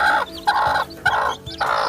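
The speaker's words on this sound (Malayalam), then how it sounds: "ഇത് ഈ തള്ള വിരിച്ച കോഴിക്കുഞ്ഞുങ്ങൾ തന്നെയാണ്" Chickens near a mother hen and her hatched chicks give loud, close clucking calls in several separate bursts with short pauses between them.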